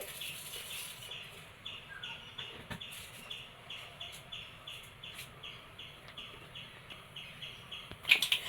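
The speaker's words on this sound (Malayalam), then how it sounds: "കടുക് പൊട്ടി" Mustard seeds pop in hot coconut oil, a run of small regular crackles ticking along steadily with a louder sharp burst near the end.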